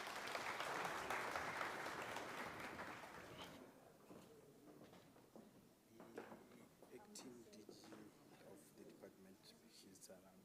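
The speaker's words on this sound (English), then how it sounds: "Let's give them a round of applause." An audience at a military veterans suppliers information day claps loudly for several seconds. The applause then thins into scattered claps, and murmuring voices carry on beneath it.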